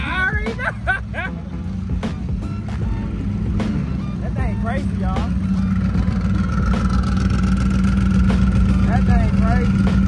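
A Chevrolet Camaro ZL1 idles with a lumpy, choppy cammed rhythm at a big Texas cars-and-coffee meet, a deep loping rumble that builds slightly while people talk excitedly nearby.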